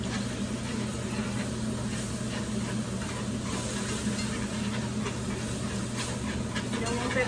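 Flour and liquid are stirred into ham gravy in a pan with a spoon, giving a steady sizzling, bubbling hiss and soft scraping throughout, while a person talks over it.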